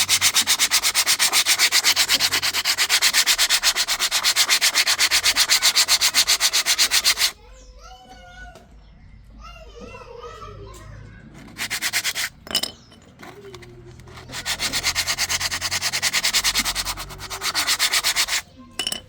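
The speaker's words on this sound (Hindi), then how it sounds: "दोनों को बारी बारी घिसेंगे जिससे कि इनके ऊपर जो भी धूल मिट्टी के पार्टिकल्स चिपके हों वो निकल जाएं।" A rear bike disc brake pad is rubbed briskly back and forth on an abrasive surface to scrape off dust. The rapid, loud, even rasping strokes stop for a quieter stretch of small clicks and handling noises, then resume.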